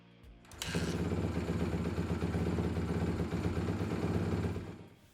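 A motorcycle engine, freshly filled with waterless coolant prep fluid, starts up and idles with a steady, even mid-pitched rumble for a few seconds before cutting off, heard up close with no talking.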